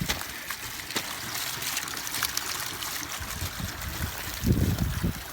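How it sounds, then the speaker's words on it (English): A small hose topping up a well runs with a steady outdoor trickle of water, moderately close, with a few splashy surges toward the end. "This is a little hose that I use to top it up."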